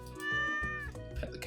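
A cat meows in the Stardew Valley video game, one drawn-out, close and clear call rising and falling over soft game background sounds, with no talking.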